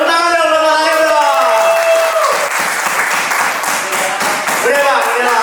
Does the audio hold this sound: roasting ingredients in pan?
no